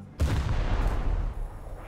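Naval gunfire and a shell detonation in War Thunder, one heavy boom with a deep rumbling tail lasting over a second.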